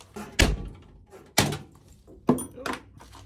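Sheet metal floor panels on a Cherokee 4x4 build are knocked free with heavy blows, three or four loud separate thuds with pauses between them and faint background noise.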